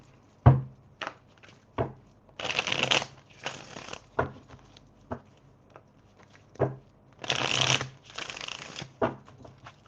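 Tarot cards being shuffled by hand in repeated bursts of riffling and flicking, with soft taps and thumps of the deck between passes, close and clear with no talking.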